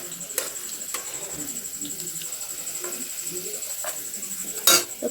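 Fried beans and carrots are lifted out of a pan, with light metal scrapes and clinks of a utensil against cookware over a steady background hiss, and one sharper clatter near the end.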